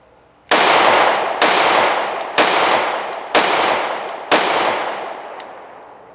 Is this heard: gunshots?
yes